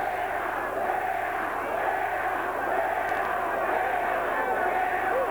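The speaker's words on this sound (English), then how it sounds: "now the crowd are getting the act as well" A large crowd riots at the 1995 World Track Sprint Championships, a dense, continuous roar of shouting and jeering voices filling a cycling arena, loud and sustained without letup.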